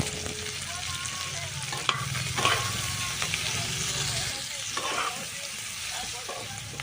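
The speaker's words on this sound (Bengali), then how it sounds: "সাথে সাথে পেঁয়াজগুলিকেও দিয়ে দেব এবার লবণ হলুদ লঙ্কা গুঁড়ো দিয়ে ভালো করে নেড়ে চেড়ে নেব" Onions stir-frying with salt, turmeric and chili powder in a hot pan: a steady close sizzle runs throughout, with scraping stirring strokes and a few clinks of the spoon.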